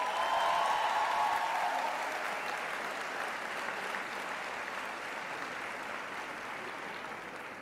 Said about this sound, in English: I ask you again to give them a round of applause.